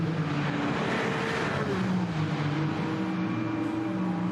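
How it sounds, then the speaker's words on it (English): A Toyota Supra race car pulls away from the pit during an endurance race, its engine rising in a steady loud drone under a constant roar of track noise. "The 160 Supra is back into the race, Johnny."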